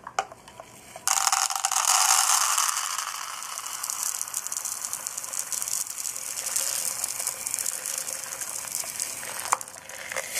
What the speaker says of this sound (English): you may enjoy the sound of the lentils pouring into the bowl